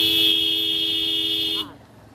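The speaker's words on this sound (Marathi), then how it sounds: "हॉर्न मारत राहावे." A vehicle horn blares in one steady, loud tone for about a second and a half, then cuts off, on a badly broken, waterlogged road strewn with small stones.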